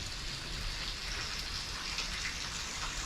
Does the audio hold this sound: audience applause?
no